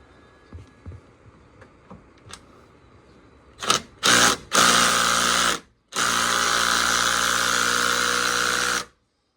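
A power tool, likely a drill or impact driver, works a bolt on a BMW radiator in a tight spot, with a few short bursts followed by two long, loud continuous whirring runs, close up.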